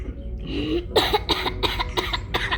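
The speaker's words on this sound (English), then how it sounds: "Why are you coughing like that?" A run of harsh, rapid coughs, one person close by after tasting hot sauce, about six bursts in quick succession with a rough, throaty edge.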